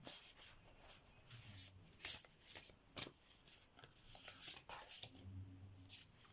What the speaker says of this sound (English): I'm going to get some more oracle cards for you as well.